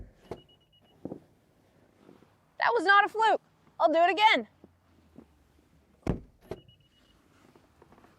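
Acura TLX Type S trunk lid shutting with a sharp thud, followed by motorized whirring as it pops back open, repeated; someone speaks in between.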